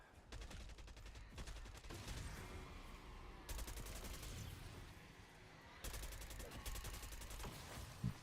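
AK assault rifle fire in Black Ops 6 Zombies: rapid automatic bursts of sharp, evenly spaced shots, repeated in several long strings, fairly quiet overall, with little talk.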